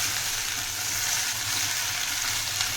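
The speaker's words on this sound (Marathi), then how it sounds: "भेंडी घालून घ्यायची चांगली तेलामध्ये परतून घ्यायची" Okra sautéing in hot oil in a pan, a steady close hiss and crackle of frying that runs evenly throughout with no voices.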